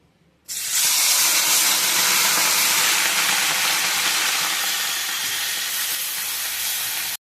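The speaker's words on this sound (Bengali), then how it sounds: "তেলটা গরম হয়ে গেছে, এবার আমি মোরলা মাছগুলো ভেজে নিচ্ছি" Small mourala fish frying in hot oil for a jute-leaf dish: a loud, steady broadband hiss bursts in suddenly and holds continuously for several seconds, then drops off at the end, with no talking.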